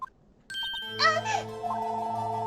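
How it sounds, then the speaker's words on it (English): An incoming-call ringtone from the Phoenix Wright: Ace Attorney courtroom game, a short tinkling electronic jingle with bright chiming notes followed by a sustained tonal melody, played clearly on its own. "Oh, we got another phone call."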